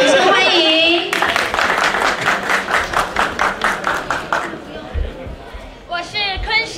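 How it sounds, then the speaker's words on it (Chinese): An audience at a school press conference claps in a steady, rhythmic beat for several seconds, with voices and children chattering before and after the clapping. "我们掌声欢迎"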